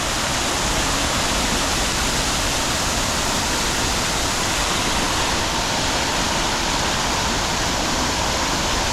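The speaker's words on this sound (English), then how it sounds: "Here goes these fountains." Outdoor water fountains in downtown Columbia, South Carolina, splashing in a loud, steady, unbroken rush of falling water that stays level throughout with no voices.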